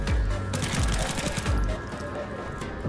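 Rapid gunfire from a newly picked-up gun in the Pathogen X game demo, a dense run of repeated shots with low thumping impacts, loud and close, continuing for most of the moment before easing slightly near the end.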